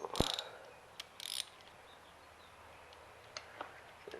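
A ratchet tightening spark plugs on a 2007 Kawasaki ZZR600, a few quick clicking bursts near the start, then faint ticks after a quiet stretch.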